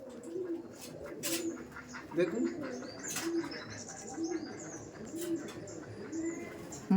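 Laldom pigeons in a loft in South 24 Parganas coo in repeated low, throaty phrases at a steady rhythm, with scattered chirps and brief wing sounds; someone speaks briefly nearby.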